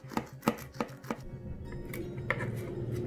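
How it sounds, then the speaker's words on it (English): A knife cuts down through a cooled homemade meatloaf, with four sharp, evenly spaced chops against a board, followed by softer scraping and a couple of lighter taps, close and clear with no talk. "take a slice out"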